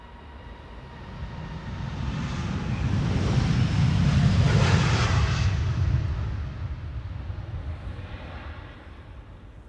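A LATAM Airlines jet departing Amsterdam Schiphol for Sao Paulo roars past, swelling from a distant rumble to a loud broad jet roar around the middle, then fading away, with no voices.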